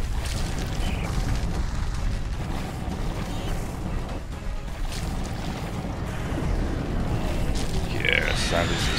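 A flamethrower in the video game Riftbreaker gives a steady, loud roaring whoosh that rumbles under the game's battle noise, with the player talking over it.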